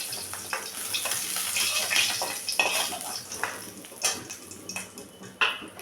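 Fried fish being lifted out of a pan in a home kitchen, with light scraping and clinks of utensil against cookware over a soft background sizzle, several sharp knocks scattered through.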